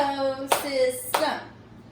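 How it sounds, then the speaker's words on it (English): Two sharp hand claps, roughly two-thirds of a second apart, mark the syllables of a word in a classroom lesson. They cut through a sung or spoken voice that carries on around them. "You're going to say the word and clap the syllables"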